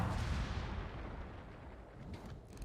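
Enemy warship artillery in World of Warships: a continuous low, rumbling barrage of distant naval gunfire with a few sharper reports near the end, alone without speech.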